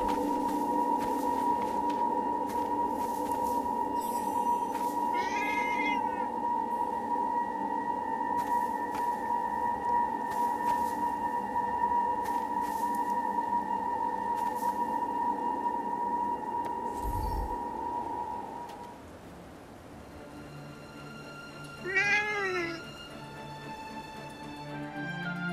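A cat meows briefly in the video game Forspoken, with two short calls rising over a steady, droning ambient hum.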